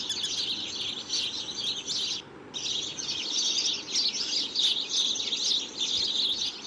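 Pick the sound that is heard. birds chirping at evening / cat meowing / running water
birds chirping at evening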